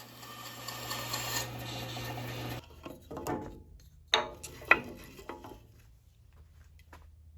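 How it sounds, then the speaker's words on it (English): Bandsaw with an old, slightly bent blade cutting shipping pallet wood: a steady buzzing cut for a few seconds, then stops, followed by a few sharp knocks and clatters as wood is handled nearby. "you'll hear that my blade has a little bit of a bend to it on the bandsaw"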